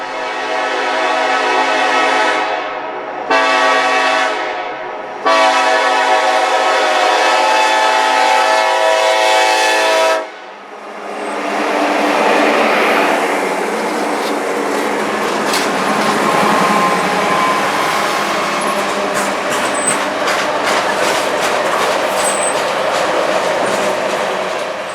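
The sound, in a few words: Norfolk Southern 153 auto-rack freight train passing with horn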